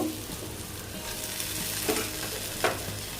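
Carrots and potatoes fry in a hot pan with a steady sizzle, while a spoon stirs them now and then with a couple of brief scraping clatters, close and moderately loud, no voices.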